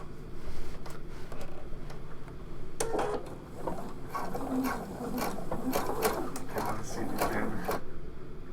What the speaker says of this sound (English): I'm going to go ahead and stitch this little section here.